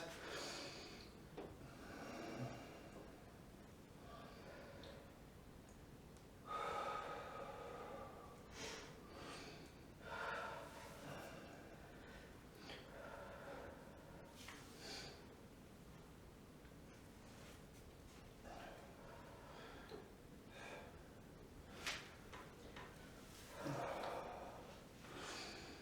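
Heavy breathing during a lower-body stretching routine: faint, quiet inhales and exhales that recur at uneven intervals, some breaths sharper and snort-like, against a soft, low background.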